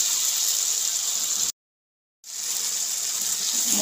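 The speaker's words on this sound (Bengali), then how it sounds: "মশলাটা যাতে আমার পুড়ে না যায় তার জন্য একটু জল দেবো অল্প পরিমাণে" Water poured onto frying masala with tomato in a village-style Indian kitchen, a loud steady gushing hiss that cuts to silence for under a second, then resumes just as strongly.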